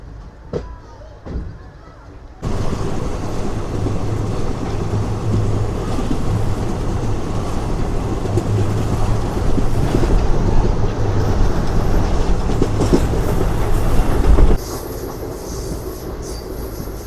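A passenger train runs with a loud, steady rumble and rattling wheels for most of the stretch, then the noise drops abruptly to a quieter hum.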